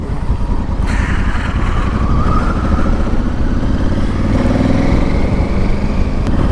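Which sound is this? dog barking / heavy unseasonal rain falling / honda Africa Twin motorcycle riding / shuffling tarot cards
honda Africa Twin motorcycle riding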